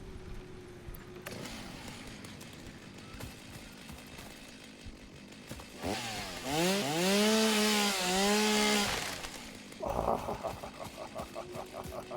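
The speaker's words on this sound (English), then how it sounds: "I have a chainsaw." A chainsaw in the video game Satisfactory revs up loudly with a rising, whining engine tone over several seconds, then drops into a rough, buzzing cut amid background game sounds.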